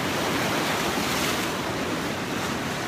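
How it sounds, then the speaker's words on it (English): Ocean waves break and wash over rocks along the shore at Laguna, a continuous loud roar of surf with wind noise on the microphone and no voices. "Some waves are coming."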